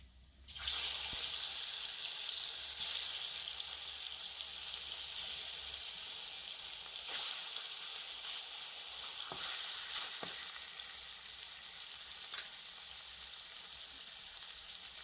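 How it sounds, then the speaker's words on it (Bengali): Rohu fish pieces drop into hot oil with turmeric and fry in a loud, continuous sizzle close by, with a few sharp spatters and stirring clicks. "এবারে মাছগুলো ভেজে নেব।"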